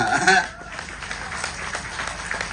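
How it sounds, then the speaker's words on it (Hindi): Audience at a speech by a former Goa Home Minister clapping at moderate level, a brief louder burst at the start settling into steady, fairly dense applause. "सब लोग जोरदार तालियां दीजिए।"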